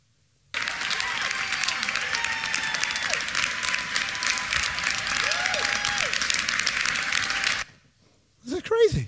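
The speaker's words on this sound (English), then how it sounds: "They're applauding." A crowd cheers and applauds after a law is passed, sustained dense clapping with whoops and shouts throughout, then a brief pause and a short burst of voices at the end.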